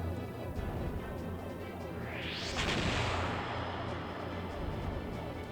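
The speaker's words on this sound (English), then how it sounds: "I will torpedo it up" A torpedo attack in the video game Skies of Arcadia Legends lands as a sudden loud crashing blast with a rising whoosh, set over steady game music.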